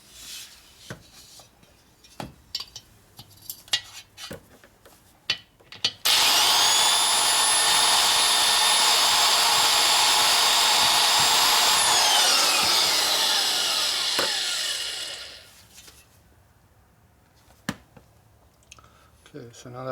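Valve seat being ground in on a 1942 Harley-Davidson 45ci military flathead engine: a loud, steady high-pitched grinding run of about nine seconds that winds down, with scattered clicks and handling noises before and after.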